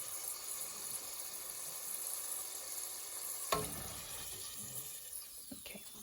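Garlic frying in hot oil in a pan, a steady close sizzle throughout with a brief stirring clatter partway through and no talking.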